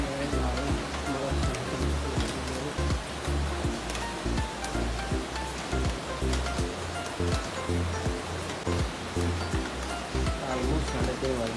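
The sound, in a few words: heavy rain falling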